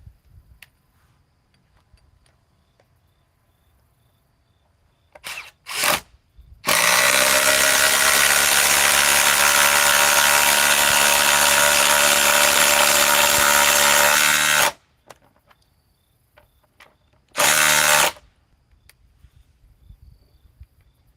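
Ryobi battery power tool running at full speed for about eight seconds in a steady, loud whirring drone, with short bursts of the motor before and after it and quiet room background between.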